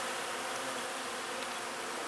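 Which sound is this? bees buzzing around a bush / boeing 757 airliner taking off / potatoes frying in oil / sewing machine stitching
bees buzzing around a bush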